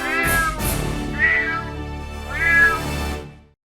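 Several drawn-out cat meows, three distinct calls spaced across a few seconds, loud and close with no talking, used as a sound effect opening a Hindi web series.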